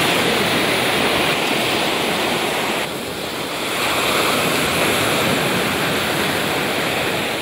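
Heavy sea surf pounding the coast at Panathura during a spell of sea erosion, a loud continuous roar of breaking waves with wind buffeting the microphone and no voices.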